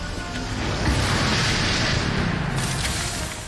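A charged wave cannon fires in the Shadowverse video game, letting out a loud, sustained booming blast that holds steady for several seconds with a rumbling, explosive roar and no talk over it.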